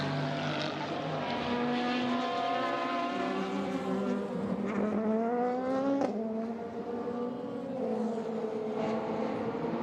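A Genesis race car in Le Mans practice, engine note rising and falling through the first corner into the Dunlop chicane, heard at a distance under continuous crowd and track noise.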